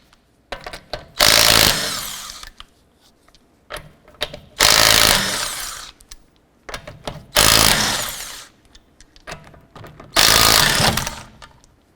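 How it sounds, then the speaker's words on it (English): Lug nuts come off a 2008-2012 Honda Accord rear wheel with a 19mm socket on an impact gun, giving four loud, sustained rattling bursts spaced a few seconds apart with brief clicks between them. "let's go ahead and remove our lug nuts."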